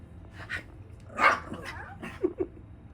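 Puppies yipping and barking in short, high bursts, a few sharp yaps near the end, close by in a quiet room with no clear speech.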